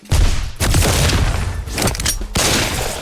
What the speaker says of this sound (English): we dash back and we shoot them, okay?